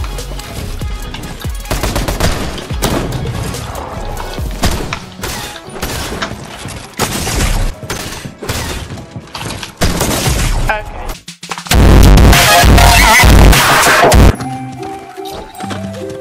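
Bursts of rapid Fortnite gunfire crackle repeatedly in heavy, loud volleys with brief pauses, ending in a sustained, intense barrage.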